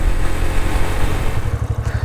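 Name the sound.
motorcycle engine running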